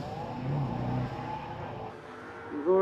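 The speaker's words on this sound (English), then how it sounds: "we've got the rumbling TR-78 and Nigel Elliott" A rumbling TR-78 race car at a hill climb at Loton Park, its engine droning steadily at mid distance before a sharper rev rises near the end, with no talk.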